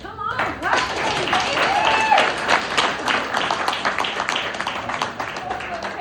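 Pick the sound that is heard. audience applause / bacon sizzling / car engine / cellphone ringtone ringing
audience applause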